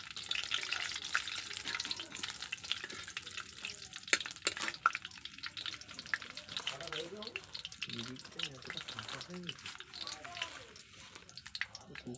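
Panch phoron spices crackling in hot oil with dry red chillies and bay leaves for a mixed vegetable curry, a close patchy sizzle with scattered pops and utensil clinks, with some voice sounds nearby.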